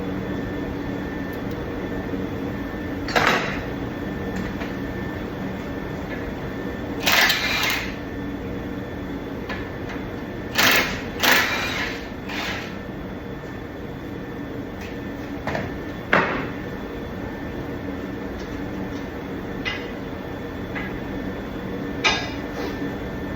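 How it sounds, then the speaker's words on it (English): A brake caliper comes off a 2023 Ford Transit 250 amid scattered metallic clanks and knocks of tools and parts over a steady shop hum, each brief and fairly near. "now we're gonna pull the caliper"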